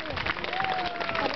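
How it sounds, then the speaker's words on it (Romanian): Crowd applause for a mounted knight at a castle jousting tournament in Brașov, a dense steady wash of many hands clapping outdoors with a faint tonal whistle running through it. "Aplauze pentru cavalerul cetății Brașov, Kronstadt!"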